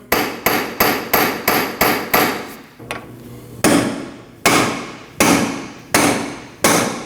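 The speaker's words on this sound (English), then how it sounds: "You can tap it with a hammer." Sharp metallic hammer blows tap an axle on a 2003-2008 Subaru Forester during control arm replacement, striking at a steady, rapid pace, about a dozen in all, with a short pause partway through before the tapping resumes.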